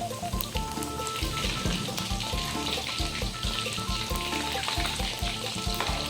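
Steady, dense sizzling of fish-sauce-marinated chicken frying in hot oil, close and loud throughout, with occasional utensil clinks and stirring sounds.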